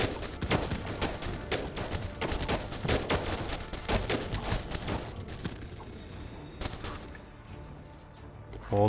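Dense, rapid gunfire rings out as defenders shoot down zombie hordes in the strategy game They Are Billions, a near-continuous loud barrage of overlapping shots that thins out toward the end.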